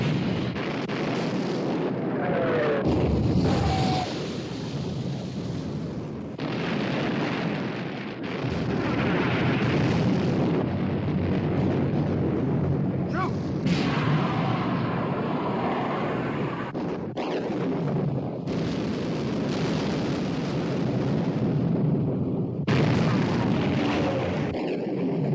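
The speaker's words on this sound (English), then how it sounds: "Prince of Wales and Bismarck exchanging fire." Battleships Prince of Wales and Bismarck exchanging naval gunfire, repeated heavy booming salvos and rumbling blasts over a loud continuous din, with voices shouting orders in between.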